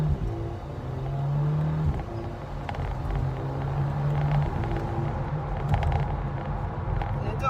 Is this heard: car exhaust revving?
yes